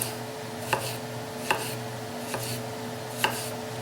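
Knife slices through a hothouse tomato on a cutting board for a zucchini dish: four separate crisp cuts spaced about a second apart, close and clear over a quiet steady background hum.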